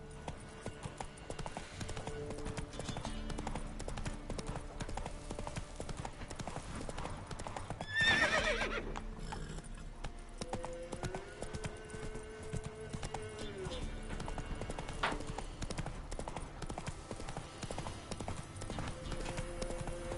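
Roach the horse's hooves clip-clop in a steady gait in The Witcher 3, a continuous rhythmic thudding under game music, with a whinny around the middle and someone talking over it.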